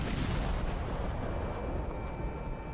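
Heavy naval guns of the battleship Wyoming fire in the World of Warships game, a loud, deep booming roar that rumbles continuously through the whole moment with no voices.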